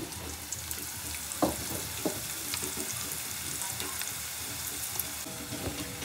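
Onion sizzles and fries steadily in a pan in a home kitchen, with a continuous crackle and a few brief clinks and stirring sounds, with no voices.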